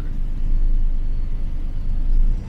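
A route c216 city bus in Moscow drives over an overpass, its engine a steady low rumble throughout with no voices, close and continuous.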